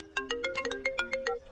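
A mobile phone rings with a quick, bright melodic ringtone, a steady run of about ten short electronic notes played close and loud, with no voices over it.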